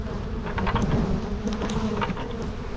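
A swarm of bees pours into a hive, their dense, steady buzzing filling the air close by with no talking.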